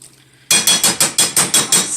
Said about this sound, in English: Don't forget to tap that spoon.